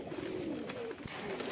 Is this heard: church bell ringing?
no